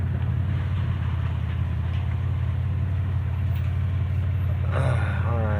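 A steady low idle drones close by from a Pontiac Grand Am fitted with a swapped supercharged 3800 engine, with a faint rising whine near the end.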